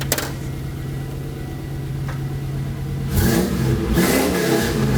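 A custom Land Rover Defender engine, idling with a steady hum before it revs up loudly and surges, then drops back and revs again, close to the vehicle.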